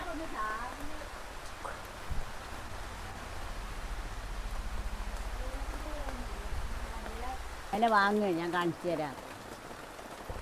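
Rain falling outdoors in a home kitchen setting, a steady soft hiss underneath intermittent talk from people nearby.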